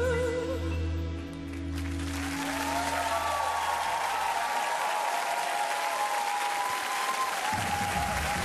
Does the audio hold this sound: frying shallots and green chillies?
no